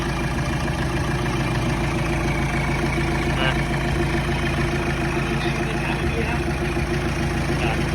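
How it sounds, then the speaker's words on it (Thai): A Mitsubishi Triton 4D56 diesel pickup engine idles with a steady, rough low rumble throughout after a timing belt replacement, and someone speaks briefly over it. "ผม ลองสตาร์ทเพื่อเทสดู ไม่มีเสียงผิดปกติของเครื่องยนต์นะครับผม"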